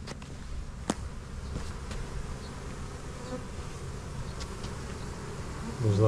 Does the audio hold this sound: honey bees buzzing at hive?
yes